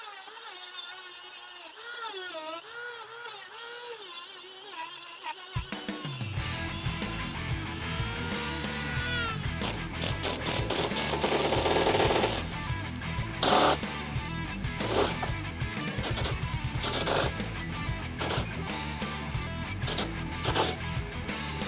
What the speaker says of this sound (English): I am going to keep on using my Dremel to cut those places